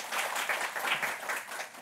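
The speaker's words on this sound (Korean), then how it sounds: "다 함께 인사하실 때 큰 박수로 축복하겠습니다" Audience applause fills a church worship service opening a ministry training institute, steady dense clapping throughout as ministers are welcomed.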